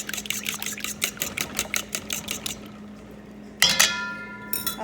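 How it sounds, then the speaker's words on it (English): Egg yolks are beaten in a bowl for soda bread, making rapid, rhythmic clinking strokes against the bowl that pause and then start again briefly, with no one talking. "I'm going to break up the yolks and whip that together."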